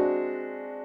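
A French augmented sixth chord rings out as one sustained chord with a crunchy whole-tone clash, struck once and left to decay smoothly with no voices over it.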